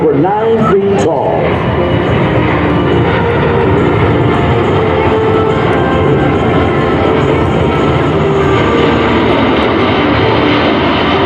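A C-17 Globemaster III military transport flies at the 2022 Joint Base Andrews air show, its engines a loud, sustained roar throughout, with a commentator's voice faintly over the public address.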